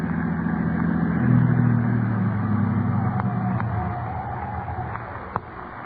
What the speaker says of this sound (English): I'll drive the car off the road.